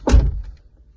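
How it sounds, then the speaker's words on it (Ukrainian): A Mercedes Vito 639 2.2 CDI sliding door closing by itself, a single low, soft thunk at the start followed by a brief fading rattle. "Закриваєте за собою гарні дверцята"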